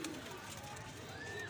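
Soft, continuous cooing of pigeons in a steady low murmur, with faint chirps and background noise throughout.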